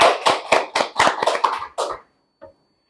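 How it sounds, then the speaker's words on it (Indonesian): A few people clap for a guest on a podcast, about eight quick, distinct claps in an uneven burst. After a brief pause comes one faint final clap, close and dry. "Langsung kita sambut aja dan kita kasih tepuk tangan"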